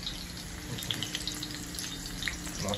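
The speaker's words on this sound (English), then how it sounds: "Done sizzling up and tickling noses already." Iguana curry fries and sizzles in a pot, a steady close crackling hiss with small pops, with no voices over it.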